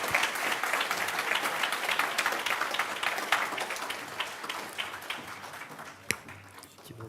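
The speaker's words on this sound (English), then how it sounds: "please give a big round of applause for our panelists" An audience applauds panelists at a talk on compassion and consciousness: a dense patter of many hands, fairly distant and moderate in level, gradually thinning toward the end, with a single sharp tap near the close.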